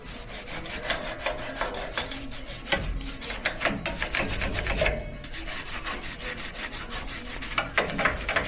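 A nylon brush scrubs light rust and scale off a 1941 Chevy pickup in rapid, rhythmic rasping strokes. The scrubbing is close and fairly loud, with steady back-and-forth bursts throughout and no voices.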